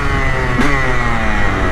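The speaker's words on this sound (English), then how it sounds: "Damn, I can hear my pipe rattling super bad right now." A motorcycle engine held at a steady, loud mid-range drone close by, with harmonic engine tones and a slight rise partway through; the rattle of the loose exhaust pipe is not clearly separable.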